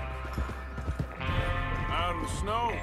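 Horses' hooves clop in uneven rhythm in the western video game Red Dead Redemption 2, moderately close, under a voice speaking with a tonal musical score in the background.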